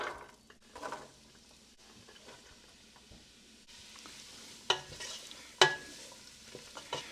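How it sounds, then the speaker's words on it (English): Chopped soup vegetables sauté in a pan, a quiet sizzle with soft stirring scrapes and a couple of sharper metallic knocks from the utensil against the pan near the end, close but faint, with no talking. "Let's saute these vegetables a little bit to soften them up."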